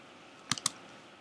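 A few quick keystrokes on a computer keyboard while entering router configuration commands, two or three sharp clicks close by in an otherwise quiet room.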